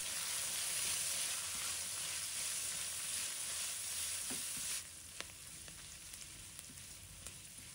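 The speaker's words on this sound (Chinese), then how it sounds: "把它翻炒断生" Bean sprouts stir-fried in a wok with minced ginger and garlic give a close, dense sizzle that drops to a softer hiss partway through, with a few light stirring clicks.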